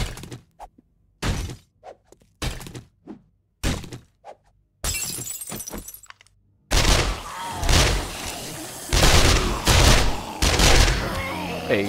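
Gunfire breaking a window in the video game 7 Days to Die, with a series of sharp separate shots followed by a crash of shattering glass and then denser, louder repeated blasts.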